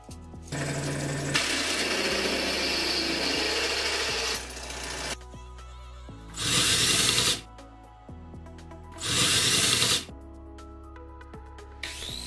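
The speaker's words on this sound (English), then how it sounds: "drill the necessary holes." A power drill whines loudly in long bursts, cutting out and restarting twice, with quieter workshop hum between runs.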